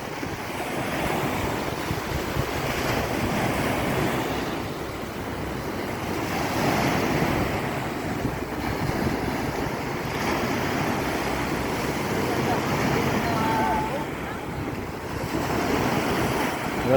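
Ocean waves slosh and wash steadily around a small wooden fishing boat at sea, a continuous broad surf roar mixed with wind buffeting the microphone, no voices heard.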